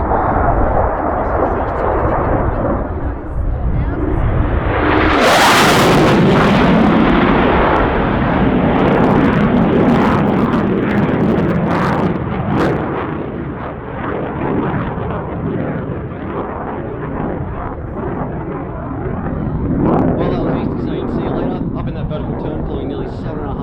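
An F/A-18 Hornet fighter jet passes overhead at around 550 knots before pulling into a vertical departure, a loud roaring swell peaking sharply then a long rumbling, crackling decay, with a commentator talking throughout.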